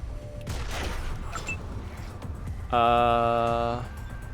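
Gunfire in the video game Wasteland 2 Director's Cut, aimed at a robot enemy: a noisy burst of shots, then a loud buzzing electronic tone lasting about a second, all fairly quiet.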